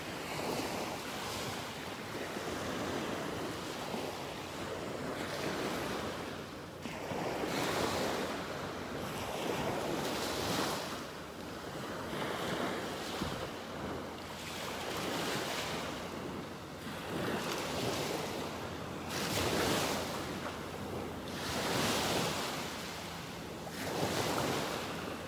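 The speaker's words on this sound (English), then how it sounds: "I love the sounds of the waves just lapping on the shore here." Ocean waves lap steadily on a beach shore in North Naples, Florida, washing in and out in repeated soft surges with a constant wind rush over the microphone and no voices.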